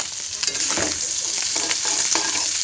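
Fish fries in a pan with a steady, loud, close sizzle, broken by soft scraping stirs, with no talk.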